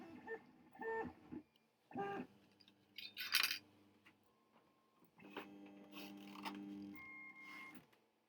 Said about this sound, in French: L'imprimante va colorer dans le cas.